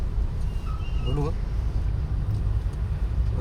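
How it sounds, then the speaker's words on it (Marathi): Steady low rumble of idling and slow-moving road traffic in a jam on National Highway 48 near Pune, with a voice speaking briefly over the continuous engine drone. "मित्रांनो, इथे लागलेली आहे मला ट्रॅफिक"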